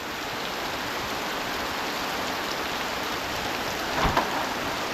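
Heavy rain pours down steadily, a dense, even hiss that fills the whole stretch, with a faint low rumble of thunder rising briefly near the end.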